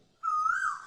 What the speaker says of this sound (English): I hope you don't mind the sound from the bird.